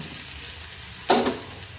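Onion frying in a pan for a Bhola fish curry, a steady soft sizzle with a brief louder burst of hissing and stirring as tomato goes in, close up and without talk.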